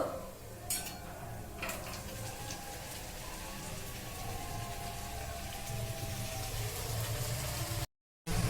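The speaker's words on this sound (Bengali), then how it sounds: "এইভাবে আমি সমস্ত পুরিগুলো কিন্তু ভেজে নেবো" Green puris made with cauliflower leaves deep-fry in hot oil, giving a dense continuous bubbling hiss with a couple of sharp utensil clicks early on and a brief dropout near the end.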